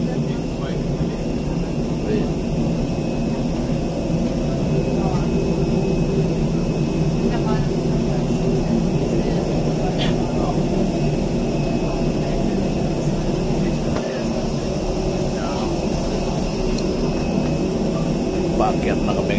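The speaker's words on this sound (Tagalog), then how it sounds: "Paakyat na kami ngayon dito sa aeroplano." A steady, loud roar from a passenger jet's engines fills the air during boarding for a flight to El Nido, Palawan, a continuous drone with faint clicks and voices mixed in.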